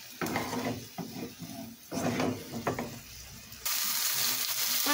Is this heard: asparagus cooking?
yes